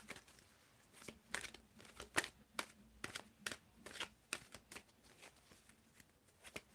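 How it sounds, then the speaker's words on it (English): Tarot cards are shuffled in quick, soft riffling bursts, a dozen or so short crisp flurries close by and quiet, with brief pauses between them. "And I want you to tell me when to stop shuffling."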